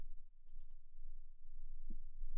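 A computer mouse clicks on a save button, a couple of faint, brief clicks over a steady low hum in a quiet room.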